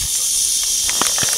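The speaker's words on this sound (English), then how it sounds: "Yeah, he's a good rattler. Yeah, you're a mean rattler." A rattlesnake coiled in open desert gives a steady, continuous dry buzzing rattle that holds close and fairly loud for the whole moment, with no voices over it.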